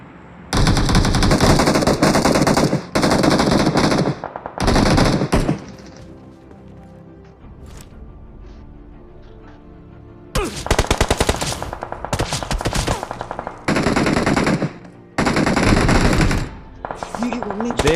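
Rapid bursts of automatic gunfire from an enemy squad in the battle royale game BGMI come in several loud, dense volleys separated by quieter gaps, with a voice talking over the action.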